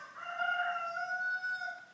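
A rooster crows once in a long, sustained call with a clear harmonic tone, moderately loud and unbroken, with no talk over it.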